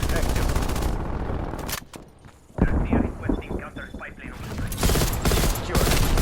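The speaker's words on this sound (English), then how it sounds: "Hostile sentry turret active." Hostile sentry turret in Call of Duty: Black Ops Cold War multiplayer, loud rapid automatic fire in long bursts with a brief lull in the middle, close and dense, with mechanical clatter mixed in.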